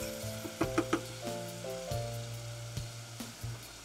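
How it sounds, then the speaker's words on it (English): Onion, garlic and ginger paste fries in a pot for beef rendang soup, producing a quiet, steady sizzle broken by a few light clicks and a low hum close by; no voices. "add your onion, garlic, and ginger mixture and cook it until it's fragrant"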